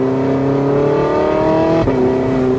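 A Porsche 918 Spyder in manual mode accelerates hard at light throttle, its engine note climbing steadily in pitch before a quick gear shift drops the tone, loud and close without speech.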